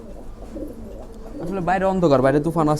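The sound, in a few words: pigeons cooing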